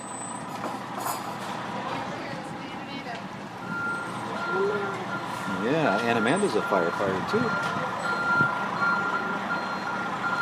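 Fire engine backing into a firehouse, with reversing beeps sounding under close conversation and ambient rumble of the truck, the beeping fairly steady through the middle of the stretch.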